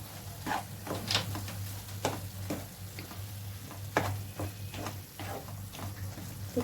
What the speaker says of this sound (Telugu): ఇట్లా వేసేసుకొని కలుపుకోవాలి